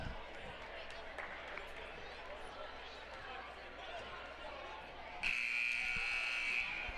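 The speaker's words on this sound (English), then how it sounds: "there's the buzzer" A basketball game buzzer sounds loudly over a noisy crowd at an Indian Sports Network broadcast, one sustained electronic tone running through the last couple of seconds while murmuring talk continues underneath.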